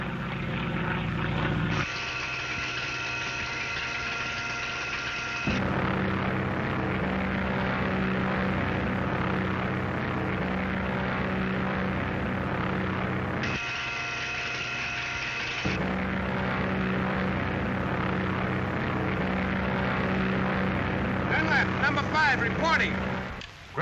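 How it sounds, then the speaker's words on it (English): A propeller airplane engine drones steadily in flight in a 1935 film soundtrack, a loud continuous hum and roar that shifts in tone at a few abrupt cuts, with a voice speaking over it. "Ground your plane at once, Dunlap"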